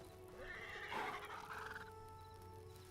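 A horse in the video game Hytale gives a neigh-like whinny that rises and falls in the middle, set over a steady game hum, with a brief loud thump at the very end.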